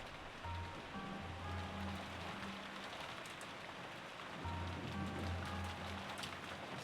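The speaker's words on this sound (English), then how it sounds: "pass the time listening to the sound of the rain until tomorrow morning" Steady rain falling from the Umineko video game, a dense continuous hiss of drops on surfaces, with a soft low musical drone underneath.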